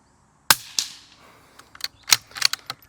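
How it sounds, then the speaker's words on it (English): Rifle shots crack out from a shooting range, one sharp loud report followed by several quieter snaps and pops that echo and fade over a few seconds, no voices. "we're going to take a few shots with the Athlon Rangecraft"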